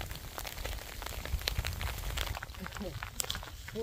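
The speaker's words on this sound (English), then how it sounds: "So it just started to hail. Pretty big. Pretty big hail balls. Yeah, it's coming down pretty tough." Large hailstones fall heavily in an outdoor setting near a truck, producing a dense scatter of sharp ticks and pattering impacts, with a person talking over them.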